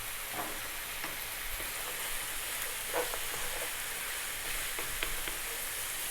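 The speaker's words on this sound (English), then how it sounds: "We're now going to drop in our spices." Ground turmeric, cumin and chili powder sizzle steadily in hot oil in a pan for lamb curry, a constant bright frying hiss with faint stirring scrapes, no voices.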